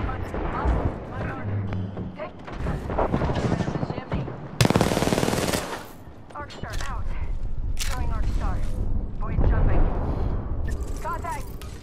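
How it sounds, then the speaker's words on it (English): Rapid automatic gunfire crackles in the video game Apex Legends, bursts of shooting and loud impacts stacked over game effects while a player talks throughout. "Someone else shooting me?"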